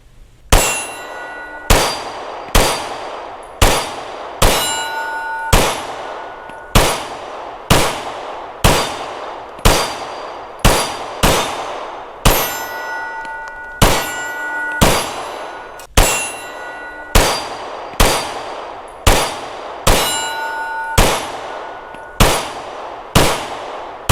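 A pistol fitted with a Swampfox Wolverine slide and Liberty red dot fires at steel targets: a rapid series of about twenty loud, close shots in quick pairs and strings, each followed by a bright metallic ring.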